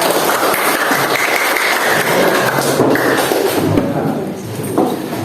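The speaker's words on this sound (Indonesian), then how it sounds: "tepuk tangan untuk kita semuanya" Steady crowd applause fills a classroom after a teacher's lesson, a dense continuous wash of clapping that stays loud throughout and fades slightly near the end.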